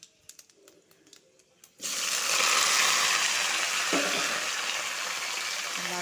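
Cauliflower, potato and tomato tip into hot oil already seasoned with panch phoron and a bay leaf, triggering a sudden loud, steady sizzle that fills the pan after a few faint clinks, with a brief scrape partway through.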